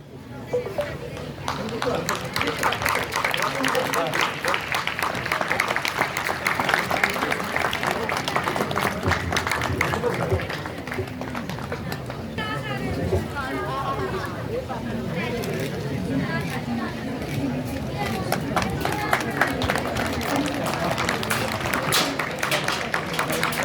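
Audience applause rings out in a hall at an International Disability Day award ceremony, a dense continuous clapping that carries on with voices and crowd noise mixed in.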